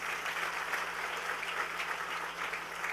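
In a church service, the congregation applauds, a dense and steady clapping that keeps up throughout, moderately close, with no talking.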